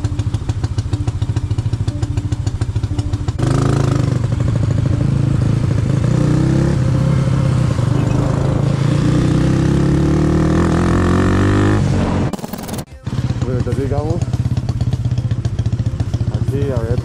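A motorcycle engine runs steadily and close by throughout, its note rising in revving sweeps, with a brief dropout and a clatter near the end.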